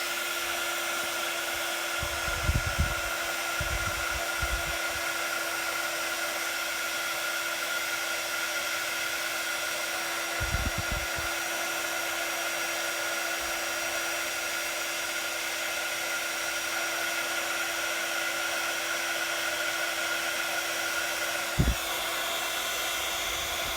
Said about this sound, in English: I'm bringing in my heat tool and I'm going to heat it from behind